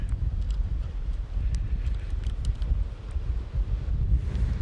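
Strong gusting wind of Storm Agnes buffets the microphone outdoors, a loud continuous low rumble with surging gusts throughout and no talk.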